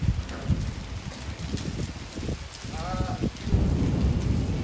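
Rain falls steadily during a storm with thunder and strong wind, a dense hiss of drops on surfaces with low rumbling bursts, while a brief chirp-like tone cuts through near the middle.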